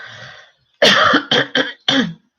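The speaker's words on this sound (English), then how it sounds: "The cough is actually from the medication that I'm on" A soft breathy throat sound, a pause, then four sharp coughs in quick succession, close and loud.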